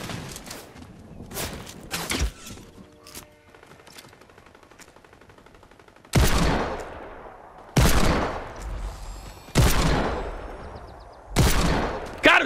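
Gunfire in the Fortnite video game: sharp, loud bursts of shots, some rapid and clustered, separated by brief quieter gaps with faint background game sounds.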